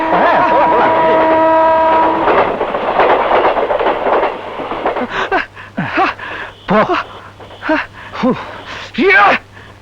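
A train horn blares for about two seconds over rumbling rail noise in a Tamil film scene, then people talk over a low, steady rail hum.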